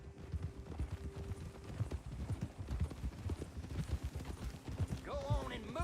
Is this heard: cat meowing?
no